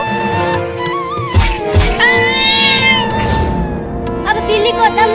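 A cartoon cat in a comedy animation, stuck with its leg caught on railway tracks, meows in drawn-out, wavering cries mixed with animated character voices talking over a busy soundtrack.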